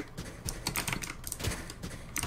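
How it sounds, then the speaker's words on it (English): Rapid close-up typing on a new computer keyboard, a quick irregular run of crisp key clicks with no talk. "Well, by the way, I got a new keyboard."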